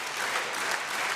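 Steady applause from a table tennis crowd at a European Champions League match, a dense continuous patter of many hands at even loudness for a brief moment with no voices on top.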